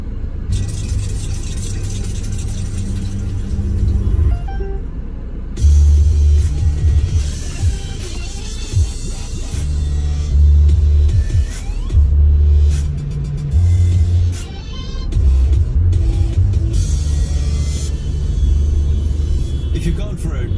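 A car drives through downtown Jakarta traffic, with a steady low engine and road rumble that swells and eases throughout, and a voice heard over the noise.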